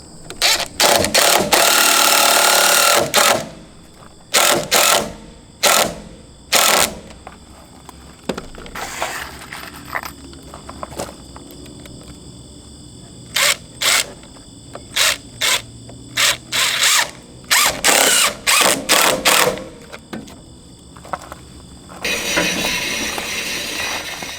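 Sawmill powered by a 14 hp Kohler engine cutting through a live edge slab, a loud sustained mechanical roar broken into long bursts and brief gaps, with heavier cutting passes near the start and the end.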